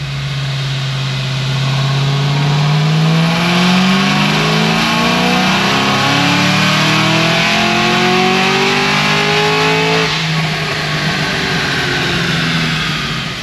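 An 800HP Cadillac CTS-V on 93 octane accelerating hard on a pull, its loud engine note climbing steadily in pitch through the gear, then dropping back after a shift, with no talk.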